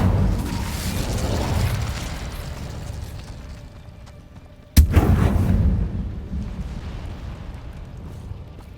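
Incendio fire spell cast in Hogwarts Legacy, a dense burning, rumbling roar with a sharp booming burst midway, then the crackling fire continues loud and close with no talk.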